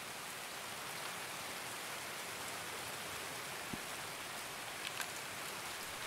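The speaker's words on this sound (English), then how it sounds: "it's raining right now, so it's going to be very, very loud" Steady rain pours in the Escape from Tarkov customs map, a dense, even hiss of drops washing over everything, moderately loud and unbroken, with a couple of faint isolated clicks and no talking.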